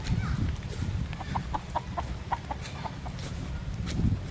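Gamecocks kept by the mangroves on Samal Island give soft, repeated clucks in a short rhythmic series at moderate distance, over a dull background.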